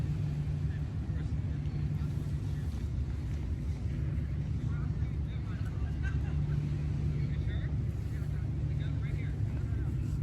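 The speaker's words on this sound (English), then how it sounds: "This one sounds like it's slowing down now because I can hear the engines a little louder." A ferry's engines reverse and rumble louder as the boat slows, giving a steady low droning roar with wind buffeting the microphone throughout.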